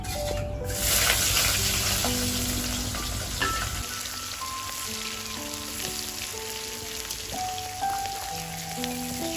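Whole garlic cloves and onion with black cumin seeds sizzle and fry steadily in hot oil in a pan, a dense crackling hiss close by with no talk.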